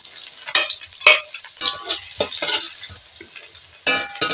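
Onion going into hot oil tempered with bay leaf and dried red chilli, frying with bursts of crackling sizzle and stirring scrapes, loud and close, surging and easing over a few seconds.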